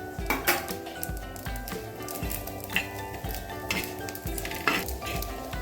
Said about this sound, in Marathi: तेलामध्ये परतून घेतले सगळे मसाले